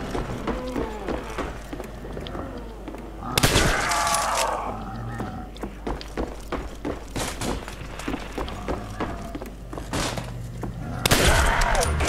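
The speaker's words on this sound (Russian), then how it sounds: "Один выстрел и мозги наружу." Gunfire in a Call of Duty Black Ops zombies match: sharp bursts of shots and heavy thuds at irregular intervals, with a louder cluster near the start and more near the end, over busy game noise.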